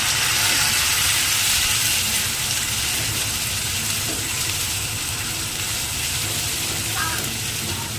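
A paste of ginger, cumin, coriander, garlic and onion fries in a pan, giving a loud, steady broadband hiss and sizzle throughout that stays even and close.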